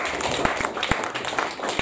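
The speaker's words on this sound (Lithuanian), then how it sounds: "Aplodismentai!" An audience at a bar event claps, a brief spatter of uneven hand claps close by, with some murmuring voices underneath.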